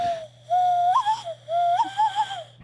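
A person imitates a bird call with a clear, sliding whistle in three wavering phrases, close and solo against a faint low hum.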